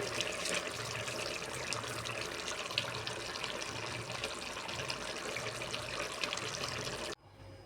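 Coriander and curry leaves are washed under steady running water, a continuous close splashing and trickling that cuts off abruptly just before the end.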